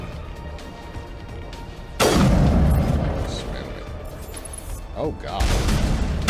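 Heavy gunfire and booming impacts in Mass Effect, a sudden loud blast followed by sustained rumbling shots and further bursts, with someone speaking briefly over the noise.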